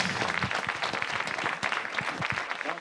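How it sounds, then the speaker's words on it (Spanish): An audience at a film festival presentation of the film La Abuela claps steadily, a dense, sustained round of applause from many hands that fills the room. "Enrique, Paco, yo creo que se merecen un aplauso"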